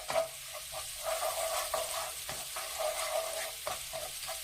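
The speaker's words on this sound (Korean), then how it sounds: "식용유 두른 팬에다가 마늘을 한 반 스푼 정도 넣고 마늘 향을 올려줄 거예요" Half a spoonful of garlic sizzles steadily in a frying pan with cooking oil, a close, continuous crackle with occasional stirring scrapes and no speech.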